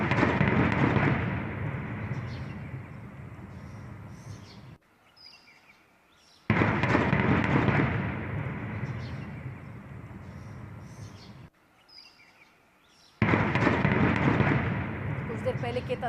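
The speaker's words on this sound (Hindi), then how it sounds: "धमाकों की आवाज सुन सकते हैं आप।" Pakistani shelling strikes across the LOC near residential areas, with three heavy, booming explosions a few seconds apart, each followed by a long rumbling decay that fades toward quiet before the next blast.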